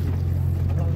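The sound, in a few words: ferry boat to Majuli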